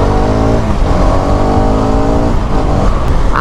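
A Hero Karizma XMR-210 motorcycle is ridden over a broken, rough road. Its engine drones loud and close, with a steady rising and falling pitch as the rider holds the throttle. No one speaks.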